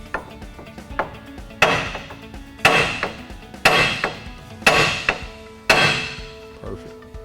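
Heavy hammer pounding a steering knuckle loose on a 2011 Chevy Duramax LML during a ReadyLift lift kit install: about six loud metallic whacks at a slow, uneven pace, each ringing briefly, close up with no talk.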